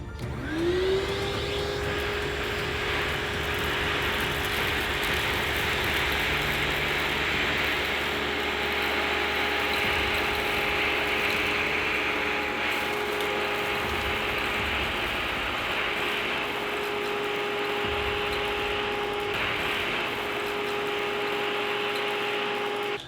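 A Tornado CV 30 vacuum with its wand attachment sucks up rock salt against an edge, giving a loud, steady motor roar and whine with a continuous gritty rattle throughout, and no talking.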